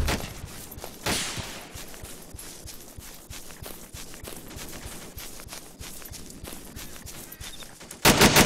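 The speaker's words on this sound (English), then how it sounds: "I'm getting shot at." Sustained rapid gunfire in a World War II airborne shooter game, a steady stream of near shots with a louder burst at the end, no talking.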